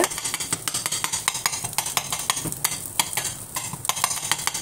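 Bread and egg kottu is chopped in a pan with a tumbler or dosa ladle, making rapid, uneven metallic clacks and taps against the pan over a soft sizzle. The sound is close and busy with no talking.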